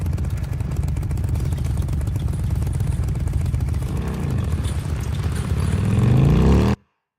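A motorcycle engine and exhaust in the video game Days Gone drone at a steady, throaty idle, then rise briefly into a louder revving surge before cutting off abruptly into silence.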